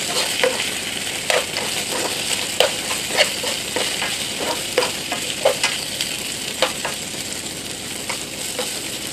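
Filling mixture being stirred in a pan over the gas, steady frying hiss beneath a regular series of spatula scrapes and knocks, close and clear, no voices.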